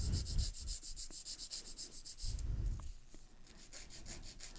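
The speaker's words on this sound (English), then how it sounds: "Now I'm going to be shaping it into my almond. I'm going to be beveling in on these sides." An acrylic nail being filed into an almond shape, with the sides beveled in, produces rapid, close, rhythmic rasping strokes that run steadily with brief pauses.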